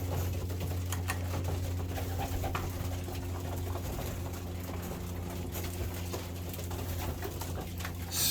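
Pigeons cooing in a loft, low repeated coos layered over a steady hum and scattered rustling and flutter, fairly close and continuous throughout.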